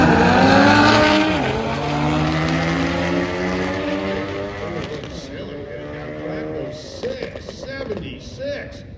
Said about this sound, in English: Big motors singing as they go through the lights